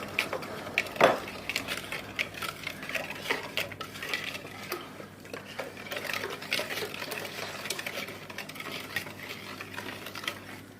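Spoon stirring oil in a bowl, quick clinking and scraping against the dish in a busy, irregular rhythm, close and fairly quiet, continuing steadily throughout.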